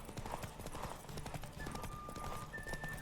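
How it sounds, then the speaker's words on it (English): A horse gallops in The Witcher 3, its hooves striking in quick, even clip-clop beats over a short stretch, moderately loud and close, with faint tonal game sounds layered above. "We just need to not gallop for a moment."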